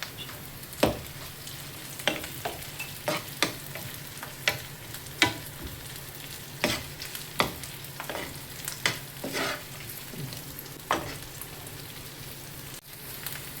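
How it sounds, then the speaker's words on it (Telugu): Boiled green peas tumble into a pan of frying potatoes, giving a steady sizzle with a series of sharp stirring clinks and scrapes spread throughout, close and fairly quiet, with no talking. "ఇదిగోండి దీంట్లో పీస్ వేస్తుంది. ఇవి బాయిల్ చేసినవేనండి. అవి వేస్తుంది దాంట్లో."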